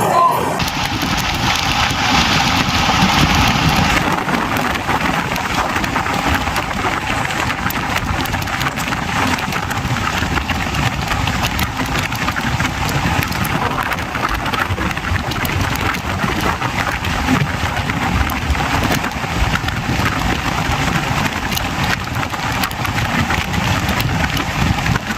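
Bhopal Shatabdi Express racing along at 150 km/h, a dense steady roar of rolling and rushing noise heard from inside the train, loud and continuous.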